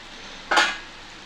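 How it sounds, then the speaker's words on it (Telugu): A lid set down on a cooking pan while garlic-chili Maggi noodles cook: one short metallic clack, fairly close, in an otherwise quiet kitchen. "ఒకసారి మూత పెడదాం"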